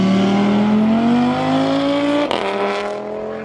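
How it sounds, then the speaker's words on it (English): A turbocharged inline five-cylinder road car drones loudly and steadily as it accelerates, its pitch climbing through the gear, then dipping briefly at a shift before pulling on again. "the road car has the fantastic sounding inline 5 with a turbocharger"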